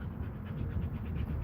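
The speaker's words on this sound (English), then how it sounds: "That's my dog." A dog pants steadily up close, with a soft whimpering edge running through the continuous breathing for the short stretch.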